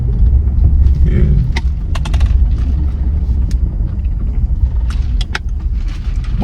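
A big Jeep drives along the road between Georgia and South Carolina, heard from inside as a constant deep rumble of engine and tyres, with voices faintly mixed in.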